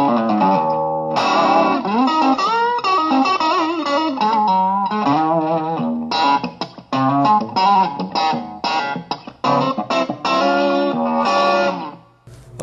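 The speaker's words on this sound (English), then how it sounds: "So we're gonna model a Fender Stratocaster with a single coil, obviously, into a Fender Twin Amp" Roland VG-99 modeling a single-coil Fender Stratocaster into a clean Fender Twin amp, a loud electric guitar phrase of bright sustained notes and quick runs, played alone and ending in a fading ring.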